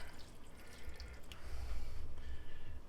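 Broth is poured over pork chops and peppers in a home kitchen, heard as soft dripping and trickling liquid that swells toward the end, with no voices.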